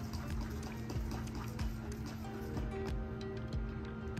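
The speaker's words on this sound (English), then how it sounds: "Then you're gonna go ahead and mix it." Biscuit mix batter being stirred in a bowl for a chicken pot pie gives faint, regular tapping and scraping strokes about every half second over a quiet, soft background.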